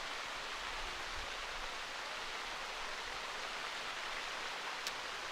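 Steady rain falls during a storm at an outdoor ASA archery shootdown in Metropolis, Illinois, a dense, even hiss of drops with faint low rumbles and no voices.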